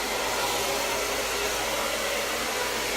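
Hair dryer on cold air blow drying long hair, a steady, loud, continuous broadband whoosh running unbroken and close throughout.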